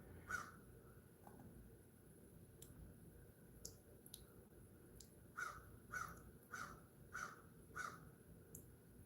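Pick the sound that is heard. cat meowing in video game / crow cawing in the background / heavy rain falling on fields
crow cawing in the background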